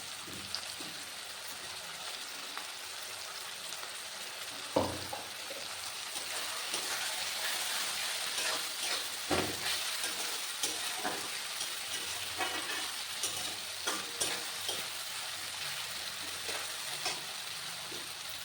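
Ginger garlic paste fries in oil with already fried tomato and onion for a raw jackfruit curry, producing a steady, dense sizzle broken by a few sharp clatters of a spoon against the pan.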